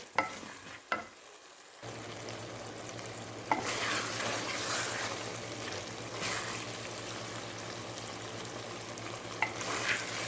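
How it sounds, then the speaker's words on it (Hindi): Potatoes fry in a pan with a sustained close sizzle, broken by a few sharp clinks and stirring scrapes, first quiet, then a fuller frying hiss for most of the stretch. "आलू डाल के हम इसको 5 से 7 मिनट भूनते हैं"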